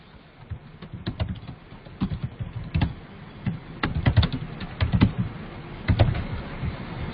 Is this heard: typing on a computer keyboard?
yes